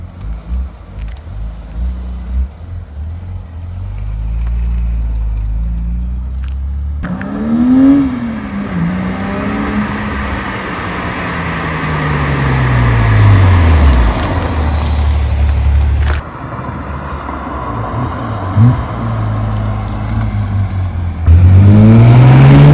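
A BMW E90 with a throaty aftermarket cat-back exhaust drives past several times, engine rising and fading as it approaches and recedes, loud and close.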